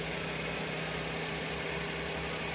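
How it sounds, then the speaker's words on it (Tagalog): A Suzuki Every 4x4 automatic van idles steadily with the air conditioning on, a smooth, even low hum with a constant drone and no misfires, heard close and alone. "So yan yung andar ng ating makina."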